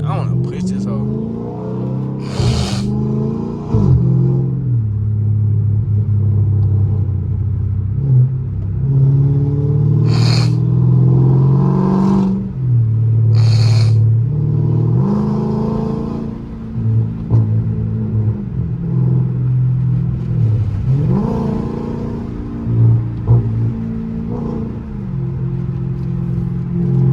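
A 500 hp Dodge Scat Pack is pushed hard on the freeway, its engine roaring loudly and near through repeated rising pulls, with shift dips between surges and a steady cabin rumble; voices occasionally break in over the noise.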